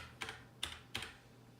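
Three separate keystrokes on a computer keyboard, spaced about a third of a second apart, as a ZTE Z820 phone model name is typed; crisp, quiet clicks alone against a faint background hum.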